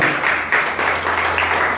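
A church congregation applauds, a dense wash of many hands clapping at once, loud and close, with a low steady hum beneath.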